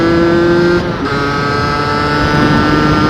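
A Beta 50 RR 50cc motorcycle engine screams near its rev limiter as a loud, high, buzzing two-stroke tone, held steady with one brief dip and recovery partway through.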